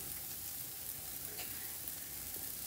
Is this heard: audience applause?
no